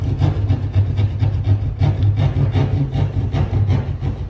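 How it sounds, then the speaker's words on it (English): Irwin pad saw cutting into a plaster wall to fit a cavity wall back box, giving a steady run of rapid rasping strokes with a low hum underneath, close and fairly loud, no talking. "this is Irwin the pad saw"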